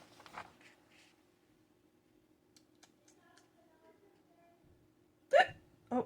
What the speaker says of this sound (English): Oh, I'm going to have a hiccup.